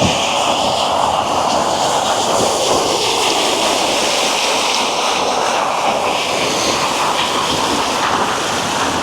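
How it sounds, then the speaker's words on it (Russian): A fountain runs in the central park of Kostanay, giving a steady, loud rushing wash of water with some wind buffeting the microphone, unbroken from start to finish. "Фонтан еще работает."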